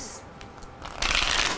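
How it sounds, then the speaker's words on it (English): A brief riffle of tarot cards being shuffled, a soft crisp flutter that swells louder toward the end, close by. "Give me one more shuffle on this."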